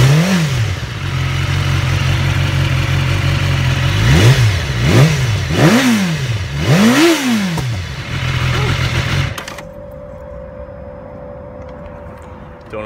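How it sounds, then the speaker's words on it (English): Nearby, a BMW S1000RR on its stock exhaust idles high, then is blipped through four loud rising-and-falling revs before being shut off, leaving faint background hum; someone talks over it. "this bike gets real loud and the exhaust is stock"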